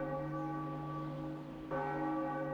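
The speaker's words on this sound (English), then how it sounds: "Tolling the bell" A single great bell from The Legend of Zelda: The Wind Waker rings out with a long humming sustain, then is struck anew for a fresh, brighter toll, heard alone and fairly clear.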